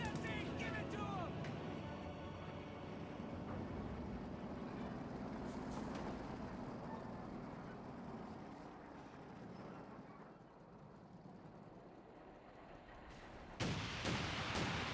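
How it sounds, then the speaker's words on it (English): A German Calliope rocket artillery barrage in Company of Heroes 2 rumbles on continuously with overlapping explosions and heavy battlefield noise, loud and dense, with faint voices mixed in and a sharp burst near the end. "German Calliope barraging away"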